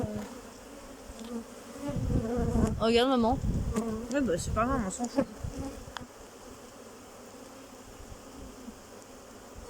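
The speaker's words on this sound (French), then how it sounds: "Il y a une abeille ici, là, qui est en train de nourrir." A steady buzzing hum of honeybees at a hive continues throughout, while people talk briefly over it in the first half.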